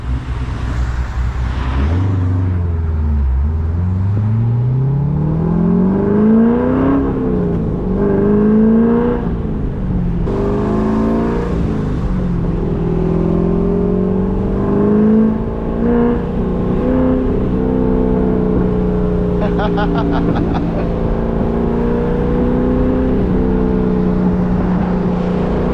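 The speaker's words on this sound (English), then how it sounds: "Y'all want to hear the car sounds" A cammed C5 Corvette with a six-speed manual and the top off revs hard while driving, its engine note climbing through the gears with choppy cam lope, loud and close with wind noise.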